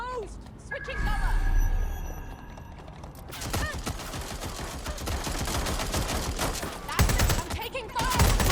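Gunfire in the video game Watch Dogs Legion: a sustained fusillade of rapid automatic shots with mechanical clatter, following some quieter game sounds, with voices talking over parts of it.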